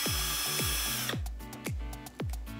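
A power driver whirs in short bursts, winding up and spinning down several times as it backs screws out of the bumper on a Traxxas UDR radio-controlled truck, close and clear, with no voices.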